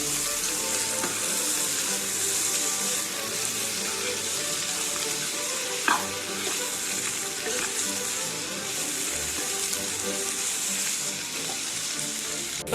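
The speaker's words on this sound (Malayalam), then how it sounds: "ഇതിലേക്ക് നമുക്ക് അരിഞ്ഞു വെച്ചിരിക്കുന്ന ക്യാപ്സിക്കം കൂടി ചേർത്ത് നല്ലതുപോലെ വഴറ്റിയെടുക്കാം" Half-cooked beef and chopped capsicum are stir-fried in a pan for Kerala-style beef ularthiyathu. A steady, close, hissing sizzle runs throughout, with an occasional scrape of the spatula.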